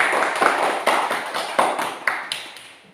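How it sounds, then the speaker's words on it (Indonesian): A classroom gives a student a round of applause: a short burst of sharp, separate claps in a quick, uneven rhythm, clear and close, with no talking. "Berikan tepuk tangan pada Putu Arif."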